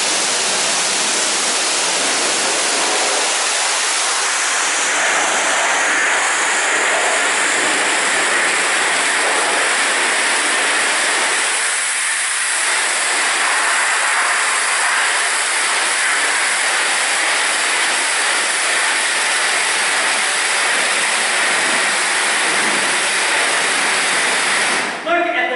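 A shower runs in a home bathroom during cleaning, a steady loud hiss of spraying water that stays even for the whole stretch, with no voices over it.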